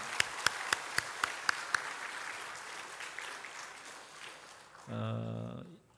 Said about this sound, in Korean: 우리 박수로 한번 축하해 주시기 바랍니다